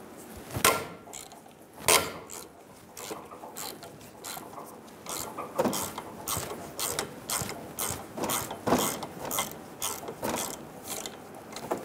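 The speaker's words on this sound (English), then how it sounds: "Using a 7mm hex head, we're going to remove the caliper bolts." A ratchet fitted with a 7mm hex head clicks in repeated bursts as it loosens brake caliper bolts on a 2000-2007 Ford Focus, with irregular rapid ratcheting and a few louder knocks.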